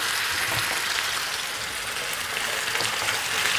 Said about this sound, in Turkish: Soğanlarım ve biberlerim biraz kavrulacak.